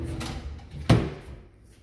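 A wooden cabinet drawer slides and bumps shut in a room, giving one sharp knock near the middle of a short stretch of low rumbling handling noise.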